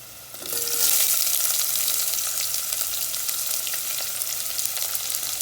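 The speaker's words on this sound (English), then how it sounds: "I will not brown it, I will just roast it till it is soft" Chopped onions hit hot oil already holding garlic, green chilies and ginger for Punjabi kadhi pakoda, giving a sudden loud sizzle that settles into a steady, dense crackle with no talking.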